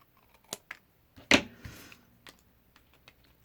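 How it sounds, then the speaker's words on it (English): Card paper edge trimmed off by hand while making a starburst greeting card: a few faint ticks, then one sharp slicing burst with a short soft drag, close and quiet, with no talk. "And then just trim that off."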